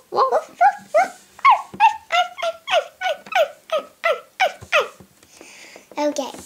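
A cartoon puppy yaps in a quick run of about a dozen high, bright barks and yips, evenly spaced and close, with a brief pause near the end before a few more barks.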